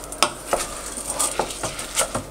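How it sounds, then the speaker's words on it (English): Risotto rice being stirred in a pan after dry white wine is added, with a faint sizzle under a series of close utensil scrapes and clinks against the pan, spaced irregularly and with no talking. "And we're going to stir that around"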